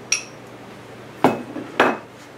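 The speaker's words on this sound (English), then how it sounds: "So we're going to mix this in and see how it mixes with the peanut butter in there." A utensil mixing salt into peanut butter spread in a bowl gives three distinct clinks and scrapes against the dish, spaced apart over a quiet background.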